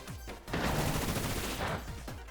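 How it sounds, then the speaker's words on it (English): Rillaboom firing Bullet Seed in Pokemon Scarlet & Violet, a quick volley of several rapid popping shots at moderate volume, with no voices over it. "Bullet Seed Rillaboom."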